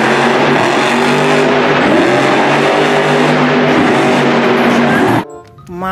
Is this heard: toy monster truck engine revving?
yes